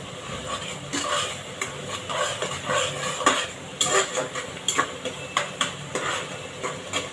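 Onions sautéed in a pan crackle and hiss beneath frequent clinks and scrapes of a metal spoon against the pan, irregular stirring strokes close by with no voices.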